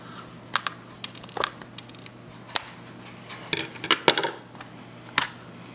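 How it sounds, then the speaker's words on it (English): Sharp, scattered snips and crisp clicks at close range as scissors cut the heads off matches, irregularly spaced, with quiet handling noise between them. "We're gonna grab like three matches and cut the heads off of it."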